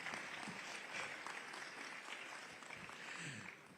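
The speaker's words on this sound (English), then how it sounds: "You can be a little more generous with the applause." Steady audience applause fills a summit hall, a dense wash of many hands clapping at moderate distance with no pause, faint and even in level throughout.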